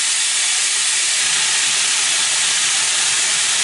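A halved garlic clove fries in a hot pan, giving a loud, constant, close hissing sizzle with no pauses.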